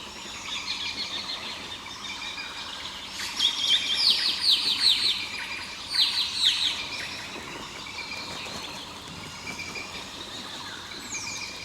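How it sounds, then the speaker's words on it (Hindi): A black-crested bulbul in Manas National Park calls while bathing in rainwater, giving bright chirping bursts in two clusters over a steady wet background hiss. "एक चंचल ब्लैक क्रेस्टेड बुलबुल बारिश में जमे हुए पानी पर स्नान करते हुए और भी ज्यादा रंगीन और खूबसूरत लग रही है।"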